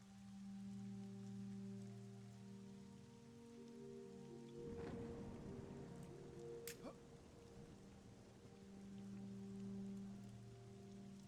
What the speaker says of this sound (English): We're gonna be tweaking the rain soon.